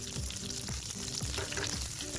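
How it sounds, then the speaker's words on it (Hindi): Cumin seeds and green chillies sizzle and crackle steadily in hot oil for a tadka, a dense continuous frying hiss with small pops throughout. "जीरे को सौते कर लेने के बाद इसमें थोड़ी सी सब्ज मिर्चें भी डाल दीजिए"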